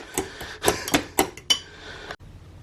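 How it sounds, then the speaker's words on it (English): Homemade barbecue sauce stirred in a pan, a utensil scraping and clinking against the metal in several distinct knocks and rattles, close and fairly loud, then going quiet. "I'm going to give this a good stir now and try and get that sugar to break down"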